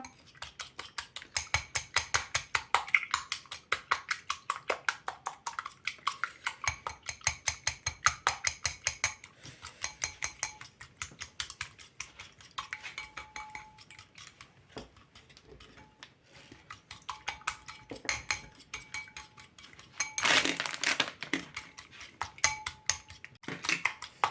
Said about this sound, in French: Je vais battre mes 2 œufs avec le sucre